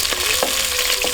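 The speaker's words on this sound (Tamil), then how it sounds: "கொஞ்சம் உப்பை சேர்த்து வெங்காயத்தை நல்லா வதக்கிட்டு" Sliced small onions sizzle and fry in a little oil with salt, cinnamon and cloves in a village-style pan, a continuous bright crackle with a few soft stirring scrapes.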